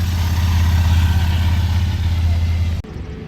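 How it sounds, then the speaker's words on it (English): A motorcycle engine idling close by at a World War II weekend event, with a low, steady throb that cuts off abruptly near the end. "I thought that was another bus, but it's actually a motorcycle."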